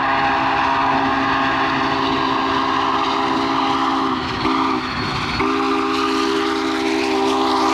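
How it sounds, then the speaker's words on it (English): Union Pacific 844, a 52-year-old steam locomotive, rolls past on a 1996 excursion run heading west toward Cheyenne, its whistle sounding in long sustained chords over the steady rumble of the train, loud and close with a brief dip midway. "the 844 heads west towards Cheyenne for the winter"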